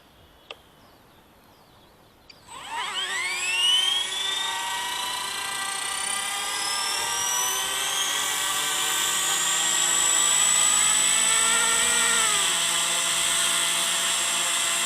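A Kiwi Craig RC MicroHeli S300C model helicopter in white trim spools up after a quiet start, its high whining motor and rotor tone rising in pitch, then holding a steady loud, close drone with a slight shift near the end.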